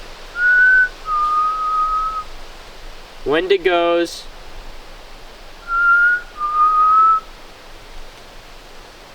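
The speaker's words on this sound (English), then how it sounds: "I'll start off by doing some whistling and trying to lure them." Two-note whistles by a person outdoors at night, two paired calls separated by a brief spoken word, over a quiet hiss of background noise.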